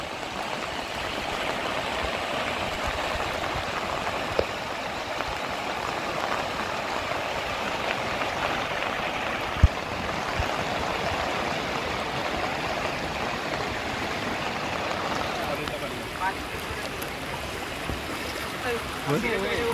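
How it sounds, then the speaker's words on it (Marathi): Torrential monsoon rain and rushing floodwater pouring into homes in Sindhudurg, Konkan, a steady, loud broadband roar of water holding constant throughout with occasional small knocks. "मुसळधार पाऊस कोसळत आहे आणि पावसाचं पर्यवसन या पुरामध्ये निर्माण झालेलं आहे। हा पाण्याला असलेला फोर्स, प्रचंड पाणी आहे"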